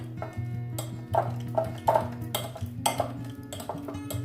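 Ripe bananas being mashed in a bowl, giving a steady run of soft clinks and scrapes of a utensil against the bowl, close and fairly quiet, with no talking.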